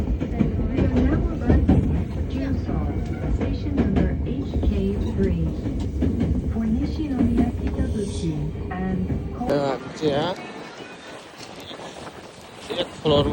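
A train pulls into a station platform in Japan, its rumble and clatter steady under crowd noise and close talking, with a brief squeal of brakes as it slows.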